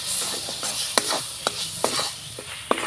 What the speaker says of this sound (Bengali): এবার নাড়াচাড়া করে খুব ভালো করে কষিয়ে নেব।